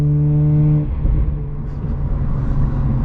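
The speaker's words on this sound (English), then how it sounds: "Little downshift right there." A car on a night highway drive drops a gear: a steady engine drone breaks off, then a rougher, louder rumble follows as the engine revs up, close and alone.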